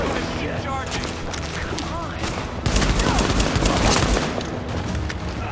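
Video game shooter gunfire, with dense rapid bursts and a steady fusillade throughout that grows louder midway, under voices from the game and players.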